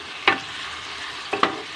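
Pechay stems being sautéed in a pan, with a steady low sizzle and two short scraping stirs of a spatula, close and alone.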